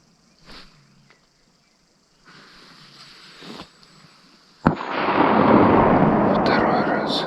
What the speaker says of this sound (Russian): Так, был выстрел от Романа